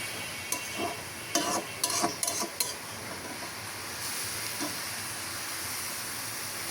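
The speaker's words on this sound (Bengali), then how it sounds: "এখানে এই যে আলু দিয়ে মশলাগুলো ভালোভাবে কষিয়ে নিচ্ছি" Utensil scraping and clinking in a pan as potatoes are stirred and sautéed with spices, with several sharp clatters early on over a steady low sizzle, close by, no talking.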